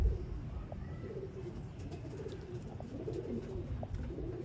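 Pigeons cooing in a loft of breeder pairs, soft low repeated coos over a dull background hum, faint and without talk.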